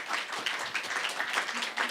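A gathering applauds for two musicians, a short, fairly faint wash of many hands clapping together without any break.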